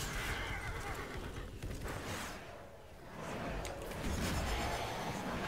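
A horse neighs in the Diablo 3 video game, whinnies rising and falling over game background sound, fairly loud and without speech.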